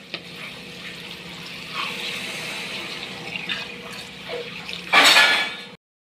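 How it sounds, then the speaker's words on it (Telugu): Coconut water mixed with plain water is poured into a pot of rice for bagara rice, making a continuous splashing trickle that swells into a louder gush near the end and then stops. "ఆ వాటర్ అయితే వేసేస్తున్నాను. కొబ్బరి వాటర్, నార్మల్ వాటర్ కలిపాను కదా"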